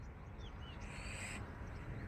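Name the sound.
pigeons cooing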